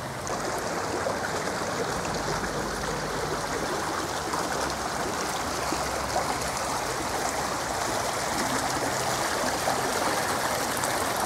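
The Darnytsia river in Kyiv streams over stones at an artificial bend, giving a steady, close, broadband rush of water that holds constant throughout with no voices.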